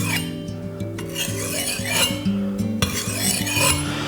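A leatherworker's head knife is sharpened in S-shaped strokes, producing a few gritty rasping sweeps over a steady low tonal hum in the background.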